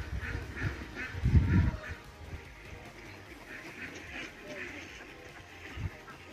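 Ducks quack in a large flock of about four hundred birds, with scattered nasal calls near and far under a low background rumble and occasional faint voices.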